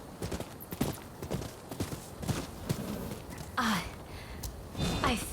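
Hooves clip-clop in a steady walking rhythm from a horse ridden in the video game Rise of the Ronin, moderately close, mixed with game ambience and a few louder scuffs and swishes.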